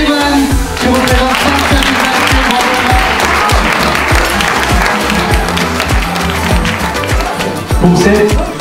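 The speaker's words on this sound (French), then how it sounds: "On peut l'applaudir." Audience applause at the final of a sports-themed eloquence contest at the Troyes fair, with dense, sustained clapping throughout that sounds close and loud, with some crowd noise mixed in.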